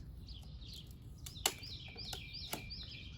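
Several faint early-morning bird chirps repeat in quick, descending phrases over a quiet outdoor background, with a couple of sharp clicks.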